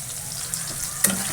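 Whole garam masala of cardamom, cinnamon, cloves and a bay leaf frying in hot oil in a home kitchen, a steady close sizzle with a brief stir or clink near the end.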